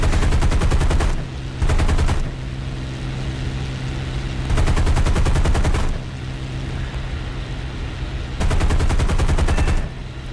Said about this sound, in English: look at those 50 cals doing their job